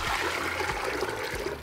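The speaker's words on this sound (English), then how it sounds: "now I'm going to grab my steamer pot and I'm going to add hot water" Hot water is poured into a steamer pot for cooking tamales, making a continuous splashing trickle with a few low thuds, close and fairly loud, with no talking.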